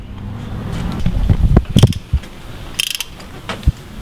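A ratchet wrench tightens a passenger-side motor mount bolt on a Mazdaspeed3, giving a few close, sharp clicking bursts and metallic clanks with quiet gaps between them.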